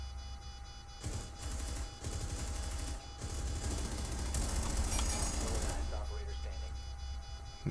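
Continuous gunfire in Fortnite and Rainbow Six gameplay, a dense, steady barrage of shots running throughout at moderate loudness over a constant electronic hum, with occasional brief gaps.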